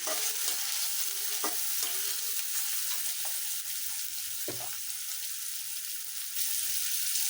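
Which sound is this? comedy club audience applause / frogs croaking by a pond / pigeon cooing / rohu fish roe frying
rohu fish roe frying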